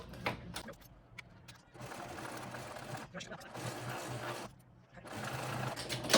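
A sewing machine stitching a backpack seam in bursts, its rapid mechanical whir starting and stopping several times with brief pauses between runs, close by and fairly quiet.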